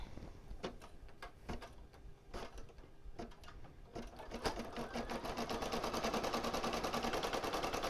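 An embroidery machine stitches appliqué collegiate lettering on fabric with a close mechanical chatter, first in sparse clicks and then in a continuous rapid run.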